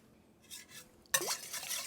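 Eggs whisked in a pot for chocolate cake batter: soft, quiet scraping strokes, then a sharper clink and a louder burst of brisk whisking at the end.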